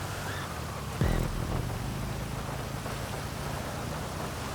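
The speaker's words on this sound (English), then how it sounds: "the only thing that's ruining the immersion is the rain indoors" Steady rain hisses over an indoor go-kart track in the GTA 5 video game, continuous and even, with a brief thud near the start and no talking.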